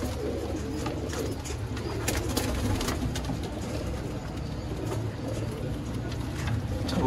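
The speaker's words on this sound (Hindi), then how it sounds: "ये जी कबूतर है और ये मादा है" Pigeons coo in low, soft repeated calls against a steady background rumble, with no one speaking, in Sialkot, Pakistan.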